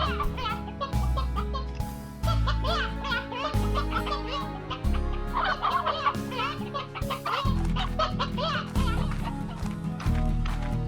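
Chicken clucking from the Slime Rancher video game, repeated cackles mixed with game music and sound effects, while a voice talks over it.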